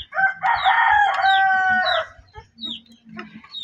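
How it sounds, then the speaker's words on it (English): A chicken in the video game Minecraft gives a loud, drawn-out crowing call, followed by a few short, quieter clucks and chirps at close range, with no speech. "don't mind the chicken in the background."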